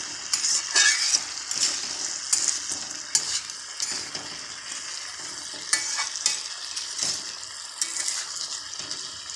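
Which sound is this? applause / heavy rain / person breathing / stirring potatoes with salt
stirring potatoes with salt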